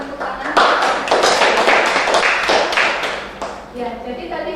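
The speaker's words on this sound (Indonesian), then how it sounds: "kalau sama kita berikan tepuk tangan" A classroom group claps hands together during a microteaching lesson, a burst of dense, fairly loud clapping that thins out toward the end as a voice starts speaking.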